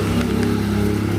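A worn Electrolux washing machine agitator with play in it runs with a steady, loud low rumbling drone and a faint rhythmic knocking throughout.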